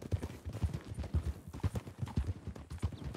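Horse hooves clip-clop in a steady rhythmic gait inside a ranch-themed roleplay video game, the footfalls moderately loud and close with no talk over them.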